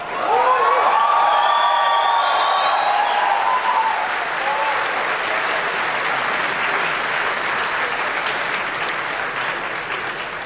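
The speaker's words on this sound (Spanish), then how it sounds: "quienes no aguantaron la emoción y aplauden cada una de las frases" Audience applause with some cheering at the Nintendo Revolution presentation, a loud sustained wash of clapping from a large crowd that fades slightly over ten seconds, with a brief whoop early on.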